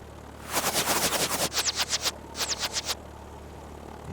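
Enemy aircraft machine guns rattle in War Thunder, two or three rapid bursts of distant, fairly faint gunfire heard over a steady engine drone with no talk.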